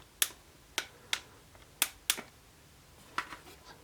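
Ratcheting joints of a Marvel Legends Spider-Man Homecoming Vulture action figure click sharply as the plastic wings and limbs are moved, a handful of crisp, close, separate clicks spaced irregularly with quiet gaps and no talking.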